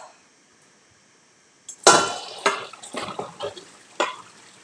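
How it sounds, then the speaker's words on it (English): Boiled potatoes drained from a pot: after a near-silent stretch, water rushes and splashes out in uneven gushes, mixed with metallic clinks of the pot and lid, fairly close and moderately loud. "we're going to drain out the potatoes and start the mash process"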